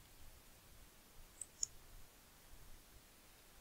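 Two faint, sharp mouse clicks close together on a quiet background, the second slightly louder, as a submit button is pressed.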